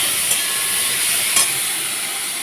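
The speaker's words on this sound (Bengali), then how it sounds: "কুমড়োটা ভেজে ভেজে নিচ্ছি" Pumpkin and potatoes fry in a pan with a steady, close, bright sizzle and hiss, broken by a couple of brief stirring scrapes.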